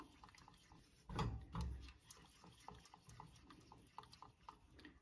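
A keto chocolate candy mixture being stirred in a pan, soft scraping and sloshing strokes in an irregular rhythm, close and quiet, with a couple of louder swishes near the start.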